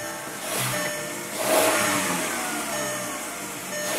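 A VW MK4 2.0L engine runs steadily nearby, with a smooth mid-pitched hum that swells briefly as it revs, then settles back to an even idle.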